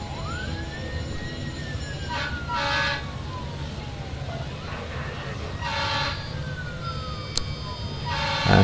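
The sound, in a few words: ambulance sirens in a video game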